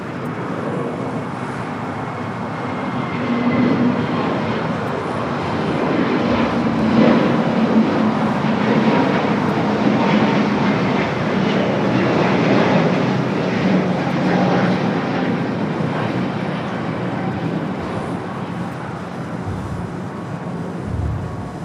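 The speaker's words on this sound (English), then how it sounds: "Next takeoff, Volaris A320 Neo." A Volaris Airbus A320neo jet taking off at LAX, a continuous moderate engine rumble that swells around the middle and then eases, with faint background traffic noise.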